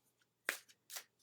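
Oracle cards are shuffled close up in a quiet room, with two or three short, soft papery riffles and a few faint clicks between them.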